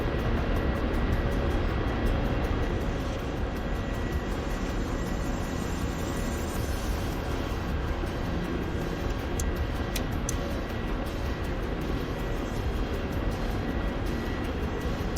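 A KA-50 Black Shark helicopter in a flight sim drones with a steady, dense rotor and turbine roar that fills the whole stretch without letup.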